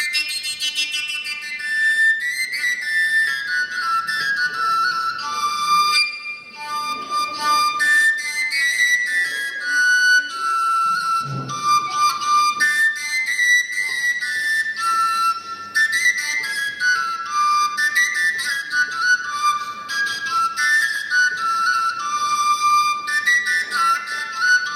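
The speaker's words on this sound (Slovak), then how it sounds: "Táto píšťalka nemá dierky a zdalo by sa, že sa na nej nedá hrať." An overtone whistle with no finger holes plays a lively melody of bright, shifting high tones that leap between harmonics, steady and close throughout, with one brief low thump midway and no talking.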